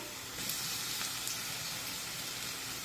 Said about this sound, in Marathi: मिरची सुद्धा आपल्याला अगदी व्यवस्थित परतून घ्यायची आहे